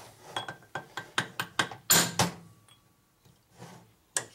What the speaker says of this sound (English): Beat on the hammer.